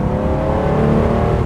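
A car accelerates hard, its engine giving a loud, steady, close drone that holds across the short clip with no speech.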